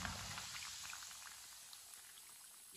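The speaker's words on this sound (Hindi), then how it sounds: "समोसों को 2 मिनट के लिए फ्राई होने देते हैं। चूल्हे की आंच को मैंने मीडियम रखा है।" Samosas fry in oil over medium heat, giving a soft, even bubbling hiss that holds steady for a few seconds, fairly quiet and heard without talk.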